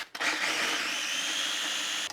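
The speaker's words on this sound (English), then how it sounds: "I also find that if you agitate your food processor, that can help dislodge stuff." A food processor grinds nuts into nut butter. It kicks on after a brief pause and settles into a steady, high-pitched whirring drone that stays loud and even until it cuts off at the end.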